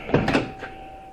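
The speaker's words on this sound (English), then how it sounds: "shut very, very well." Two quick close thumps followed by a softer third knock, consistent with a 1967 Ford Galaxie car door shutting; moderately loud with no voices.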